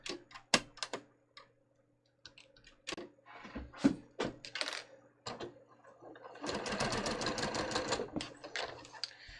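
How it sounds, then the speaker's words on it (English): Sewing machine stitching a 3/8 inch fabric seam on a bateau neck blouse, starting with scattered clicks and short bursts, then a sustained rapid run of stitching near the end. "I'm just going to sew it at 3/8."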